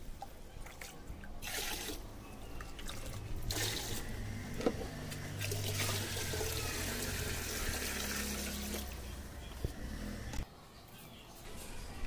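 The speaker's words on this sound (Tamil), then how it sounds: "இப்போ வாட்டர் ஃபில் பண்ணி முடிச்சிட்டோம்" Water running into a fish tank during a tank cleaning, a continuous gushing, splashing flow with a low rumble that shifts in intensity and briefly drops off near the end.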